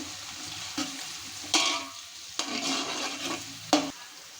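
Onions roast in a pan for upma under a gentle sizzle, with four sharp spatula scrapes spaced unevenly across the stretch and no talking.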